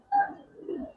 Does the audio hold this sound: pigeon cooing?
yes